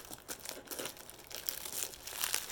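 A tightly wrapped package being unwrapped with scissors, giving soft crinkling and tearing of wrapping material in irregular bursts, close and fairly quiet, with no talking.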